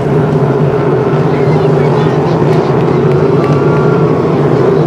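Racing boat engines drone loudly and continuously during a boat race, a steady close motor roar with a fixed pitch and a commentator's voice running over it.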